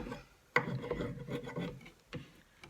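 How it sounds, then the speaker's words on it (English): A painted IKEA plant stand being rubbed by hand to distress the finish, with irregular close-up scuffing strokes: one sharp onset and then uneven rasping passes. "So I'm just rubbing, just in no set manner."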